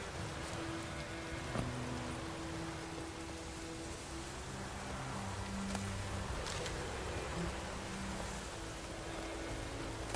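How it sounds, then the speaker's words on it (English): Steady rain falling in The Witcher 3: Wild Hunt, a continuous even hiss of drops with faint low game ambience underneath and no talking. "Let it rain."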